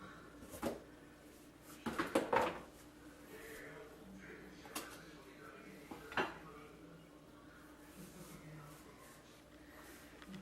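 Jars clatter and clink on a kitchen counter while a sweet breakfast is prepared, a few sharp knocks and rattles at moderate volume, spaced out over a quiet background.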